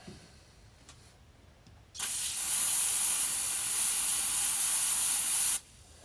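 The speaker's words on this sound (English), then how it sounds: "First we'll spray it like this." An aerosol can of CRC Freeze-Off freeze spray sprays in one steady hiss for about three and a half seconds, close up, then cuts off abruptly.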